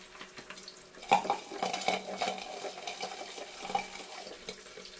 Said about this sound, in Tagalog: O di ba po, sobrang talsik niya.